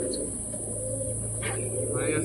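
A baby pigeon kept as a pet gives soft, close coos over a steady background hum, a couple of short low calls in a brief stretch.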